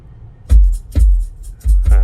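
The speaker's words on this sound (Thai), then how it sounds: "ฟังเบสดีกว่า" Deep, loud car stereo bass in a Toyota Alphard thumps in a steady beat, heavy low booms pulsing roughly every half second with faint higher sounds between.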